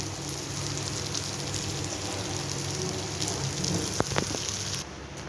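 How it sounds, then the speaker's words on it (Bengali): Dhoka, Bengali lentil cakes, frying in hot oil in a pan, giving a dense steady sizzle and crackle close by, with a few small clatters near the end and no speech. "সব ভেজে নিই, এরকম করে ওইগুলো ভেজে নেব।"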